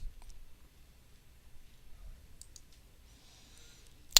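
A few sharp computer mouse clicks, close and isolated, with the clearest one at the very end over a quiet room background.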